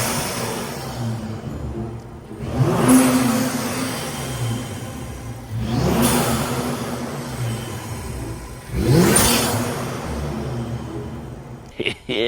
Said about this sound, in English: he's got to rev that so we can get intake sounds